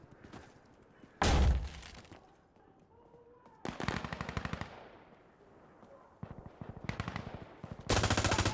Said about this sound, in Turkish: Şu arkadaki sniper vuralım